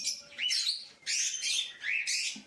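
Pet birds chirp in quick, high, bright phrases, close and clear, with three or four bursts of twittering separated by short pauses.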